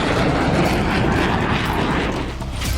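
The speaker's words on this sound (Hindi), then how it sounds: "यह रूस का सुखोई 35 फाइटर जेट है।" Russian Sukhoi Su-35 fighter jet flying overhead, a steady broad roaring engine rush that holds at a moderate, somewhat distant level throughout with no voices.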